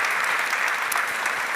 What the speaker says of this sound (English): And a warm applause to the speakers.